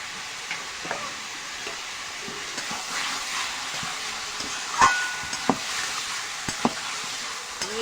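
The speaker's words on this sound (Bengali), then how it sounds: "আমি এভাবে কষিয়ে নেব কিছুক্ষণ।" Mutton frying in a pan with salt and turmeric, a low steady sizzle with scattered clinks and scrapes of a stirring spoon at close range, with no talking.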